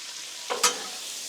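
Peppers, onions and garlic sizzle on a Blackstone griddle, a steady soft frying hiss with two brief louder bursts of stirring or scraping midway, close and without talk.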